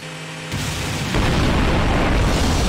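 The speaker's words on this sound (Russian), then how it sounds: "взрыв был слабый" A bomb explodes in Garry's Mod: a sudden loud blast breaks over a low tonal hum, then swells into a second heavier, rumbling boom. Dense noise sustains to the end, with no talking.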